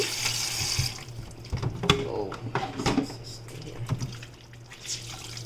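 A kitchen grater scrubbed with a rag under running tap water in a sink, with steady water flow, splashes, drips and occasional scraping clatter up close.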